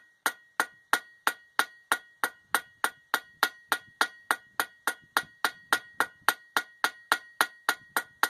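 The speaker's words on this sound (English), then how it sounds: "Start peening this pedal out. Or not the cross peen, the ball peen" A ball peen hammer peens out a copper rose petal during hand forging, striking about three times per second in a long, steady series of close, ringing metallic blows with no talking.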